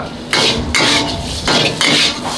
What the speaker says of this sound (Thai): เอาหมูเนี่ยลงไปคั่วกับเขาเลย ใช้ไฟอ่อนกลาง ๆ